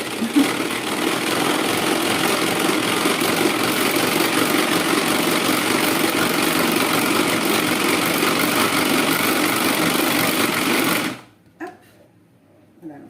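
An electric mixer on low speed whips 300 ml of liquid cream into chantilly, giving a steady, loud motor whir for about eleven seconds before it suddenly cuts off, leaving quiet room noise.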